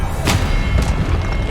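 An Expelliarmus spell cast in Hogwarts Legacy gives a loud, heavy, low thumping burst with a sharp crack near the start, all inside a short, dense rumble.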